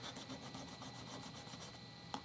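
An abrasive block rubs solder and flux off the top of HO scale Kato Unitrack model railway rail, a soft, steady rasping scrub with a quick back-and-forth rhythm, close and fairly quiet, with no talking.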